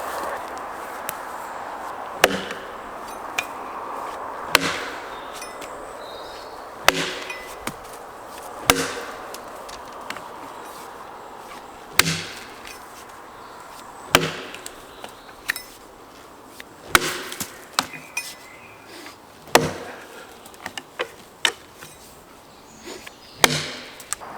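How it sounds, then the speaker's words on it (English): A larger, lighter Italian axe chopping and splitting wood outdoors on rough terrain: about a dozen sharp, close blows land every two or three seconds over a faint insect hum. "Now I'm gonna try the larger Italian axe. Well, larger but lighter."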